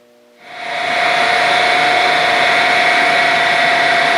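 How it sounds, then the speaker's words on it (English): Grinding machine spindle running steadily at warm-up speed: a loud, continuous high whine with a sharp tonal hum, starting up from near silence and settling into an unbroken drone. "We got the spindle warming up for a little bit."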